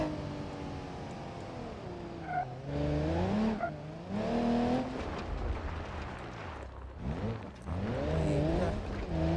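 A Volkswagen Touareg SUV climbs a rough mountain off-road track, its engine rising and falling in pitch as it revs and labours over the terrain, loud and close throughout, with no talk.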